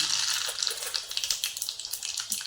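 Cumin and mustard seeds sizzle and crackle in hot oil in a kadhai, a close, steady bright hiss scattered with quick pops, with no voices.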